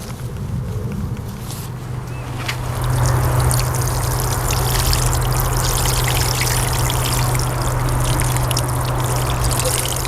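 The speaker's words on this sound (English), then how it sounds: "then they just need watering" Water pours onto potted geum divisions, a rushing, splashing flow that starts softer and swells to a loud, steady stream partway through, with a low hum beneath it.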